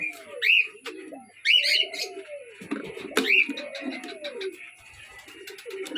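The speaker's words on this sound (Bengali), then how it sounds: "এটা হইতেছে কবুতরের সেট আপ।" Pigeons in a coop coo repeatedly in soft, rolling calls, with bird chirps and tweets overlapping throughout and a faint steady hum behind them.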